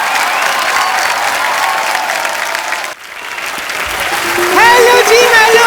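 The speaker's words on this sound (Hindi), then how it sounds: "जोरदार तालियां एक बार।" Loud, dense studio audience applause on a comedy talk show as a guest is welcomed on stage, continuous clapping and crowd noise that briefly dips, then swells again under music and cheering.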